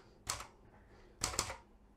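Keys strike on a Seiko typewriter with an F-layout keyboard: one sharp clack, then a quick double clack a second later, crisp and close in a quiet room.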